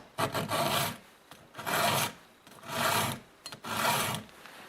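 A hand file rasps against chainsaw chain teeth in four slow, even strokes, each a gritty scraping pass followed by a brief pause.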